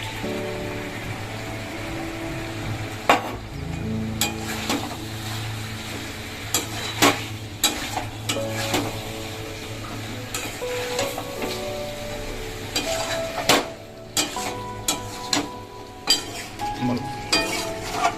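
Coriander leaf and green chilli paste goes into sizzling chicken in a pan: a continuous frying crackle under repeated scrapes and sharp metallic clinks from stirring, close and moderately loud, with light voice sounds in places.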